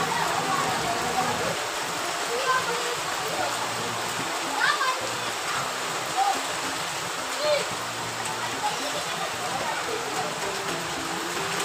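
Heavy rain with gusty wind pours down in a steady, dense hiss and patter, broken by a few brief splashes, with faint talk in the background.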